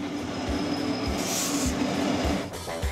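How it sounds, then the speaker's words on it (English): A heavy iron ore freight train rolls slowly over track with a missing bolt, with loud, close rumbling, periodic low wheel thumps over rail joints and a faint metallic squeal. "The train eases over the track with the missing bolt."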